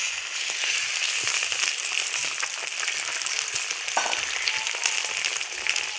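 Egg frying in a hot pan for vhat pitha, a loud, steady sizzle with dense crackling and small pops running throughout, close and unbroken.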